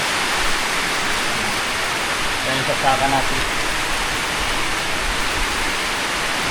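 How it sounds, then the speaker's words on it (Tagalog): Steady, loud rushing water gushes from a hose, filling the whole clip with a continuous spray, with someone speaking briefly over it. "nagwawala yung tubig, oh. Lakas, oh."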